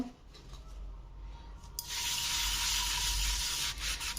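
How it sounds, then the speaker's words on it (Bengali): Brass puja utensils scrubbed by hand with Pitambari cleaning powder, a close, steady abrasive rubbing that grows louder and denser partway through and continues without pause. "এই পিতাম্বর পাউডারটা দিয়ে একটু ঘষে নিচ্ছি এবার এটাকেও একটু মেজে নেব"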